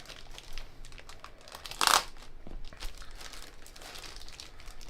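Soft, irregular plastic bag crinkling with one sharper, louder crackle in the middle, close up and quiet overall.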